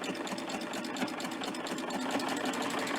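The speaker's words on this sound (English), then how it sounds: "what I'm going to do is just stitch off this end." A serger stitches off the end of soft Minky cuddle fabric using a three-thread narrow stitch, giving a fast, steady mechanical whirr with rapid rhythmic needle beats, close and continuous.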